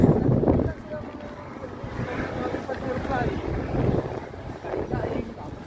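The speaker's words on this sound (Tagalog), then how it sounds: "Kaso nga, malakas ang hangin." Strong wind buffets the microphone with loud rumbling gusts, mixed with churning water, while voices talk intermittently underneath.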